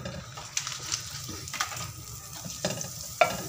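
Butter melts and sizzles in a cooking pot over low heat for junglee pulao, a steady soft frying hiss broken by a few crisp pops and crackles, close and alone.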